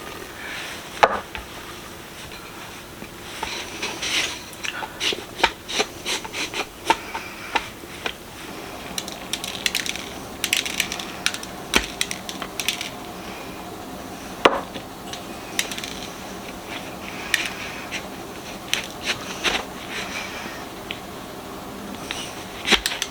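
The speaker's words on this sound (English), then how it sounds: "I'm just going to fill him up here with this rice and pack him in there." Rice is poured and packed into an 18th-century-style leather canteen, making irregular dry rattles, taps and knocks, with a few louder thumps and scraping as it settles, all close up and with no talking.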